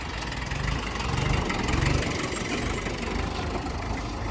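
A Mahindra B-275 tractor engine idles close by with a steady, loud, low diesel chugging and a rapid knocking rhythm that swells slightly midway, with no one speaking.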